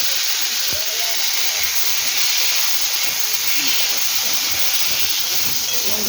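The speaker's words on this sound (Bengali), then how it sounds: "আলুটা ভালো করে ভেজে নেব।" Small cut potato pieces frying in oil, a loud steady hiss and sizzle throughout with a few faint pops.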